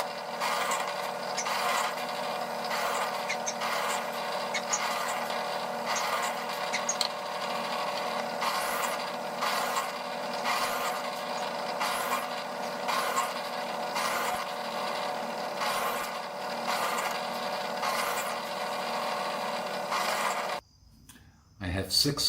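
A power drill whirs steadily into scrap wood for about twenty seconds, its constant mechanical whine broken by small fluctuations before cutting off abruptly.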